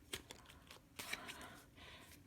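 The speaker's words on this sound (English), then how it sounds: "Alright, let's give it one more shuffle." A tarot card deck is shuffled close by in quiet, brisk riffling and papery flutters, soft and uneven over a couple of seconds with no speech.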